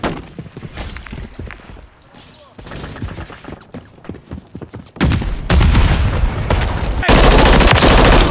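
Rapid assault-rifle bursts from an MTZ-556 in a Call of Duty MW3 Team Deathmatch on the Rundown map, sharp repeated shots over game noise, growing louder and denser toward the end, with brief voice callouts mixed in.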